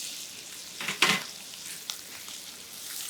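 Bacon and thinly sliced onions fry in a pan, a soft steady sizzle with a brief louder burst as the onions drop in, heard close with no talking.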